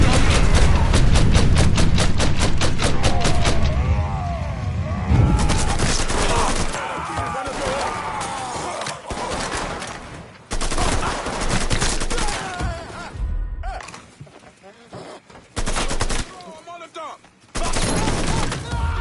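Rapid bursts of automatic gunfire and single shots in the Mafia 3 video game, set in a bayou, loud and dense at first, then intermittent volleys with voices talking between them.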